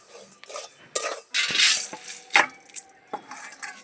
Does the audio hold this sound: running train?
no